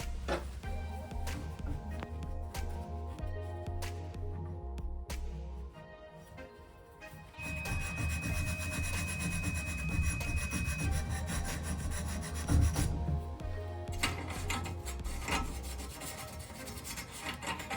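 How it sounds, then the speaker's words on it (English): Tap washers being rubbed clean with abrasive cloth, a continuous close scratchy rasping that goes on for most of the stretch, with faint knocks and a brief tonal whine partway through. "Just using a bit of abrasive cloth that I use to clean pipes to clean them off."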